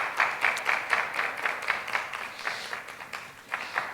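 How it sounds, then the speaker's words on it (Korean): A congregation applauds during a Korean church service, a moderately distant wash of clapping with uneven swells that carries on for a few seconds. "박수 한번 부탁드리겠습니다."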